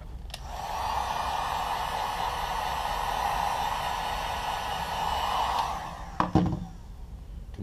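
A heat gun blows a steady broadband roar that warms 3M Sole Protector film on a Yeezy sneaker sole. It runs loud and constant for about six seconds, then cuts off and leaves a few clicks and handling knocks.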